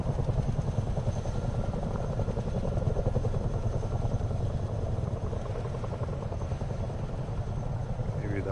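Helicopter in Microsoft Flight Simulator 2024 on PS5, a steady thumping rotor drone with engine whine, loud and continuous throughout without pause.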